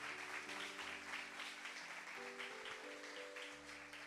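Church congregation applauding the Lord during a sermon, a steady broad wash of clapping with sustained keyboard or organ chords playing underneath throughout.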